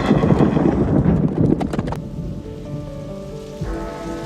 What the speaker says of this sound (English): The sudden heavy rain broke the ice on the Thames.